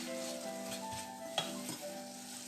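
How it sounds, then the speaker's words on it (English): Finely chopped cabbage stirred into a pot of Portuguese caldo verde soup, a faint steady simmering sizzle with a single soft clink of a spoon against the pot. "drop that all in there, mix it all in"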